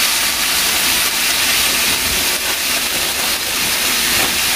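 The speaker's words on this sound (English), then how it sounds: "And we'll add some of the peppers and onions too." Beef stir-fry sizzles loudly in a pan as peppers and onions go in, a steady, close hiss that holds without a break from start to finish.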